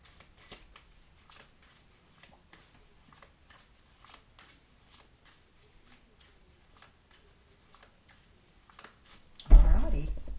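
A Green Witch Tarot card deck is shuffled steadily, with a light, rapid patter of cards sliding and tapping close by, ending in a louder burst of handling.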